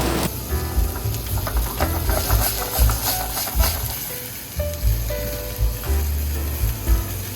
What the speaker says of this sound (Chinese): 我们就可以把剩下的番茄跟豆子下锅一起炒